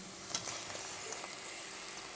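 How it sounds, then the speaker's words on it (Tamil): Fried soya chunks stirred into a simmering Tamil-style gravy, oil sizzling steadily with faint stirring scrapes close by. "இப்போ நம்ம வந்து வறுத்து வச்சுருக்கிற மீல் மேக்கர் போட்டுடலாம்."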